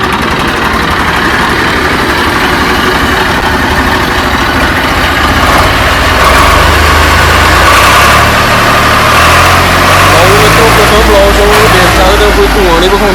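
A Swaraj 735 tractor's heavy diesel engine idles with a steady low rumble that swells slightly partway through, loud and close, with some voices faintly underneath.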